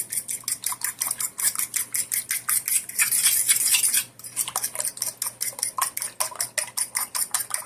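Aloo tikki mixture with eggs mixed in a bowl, a steady rhythm of spoon scrapes and clinks against the bowl, close and crisp, with a short continuous scraping swirl midway.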